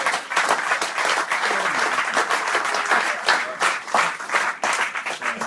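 Audience clapping for rugby players being introduced at a team event, a sustained burst of hearty applause from a sizeable crowd, loud and close, lasting the whole stretch with slight swells.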